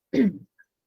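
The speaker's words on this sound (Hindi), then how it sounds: "ये खांसी बहुत डिस्टर्ब भी करती है क्लास को" A single short, harsh cough, close up in a classroom, followed by silence.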